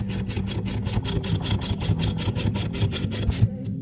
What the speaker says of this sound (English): I'm gonna start them with the wrench, and then I'll get them torqued in.